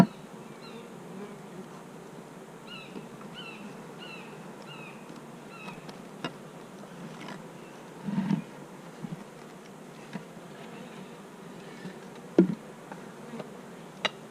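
Honeybees buzzing around two newly placed hives outdoors, a soft continuous hum of many insects with occasional closer passes and faint bird chirps, no talk.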